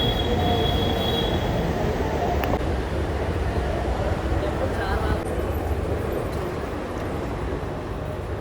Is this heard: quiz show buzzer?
no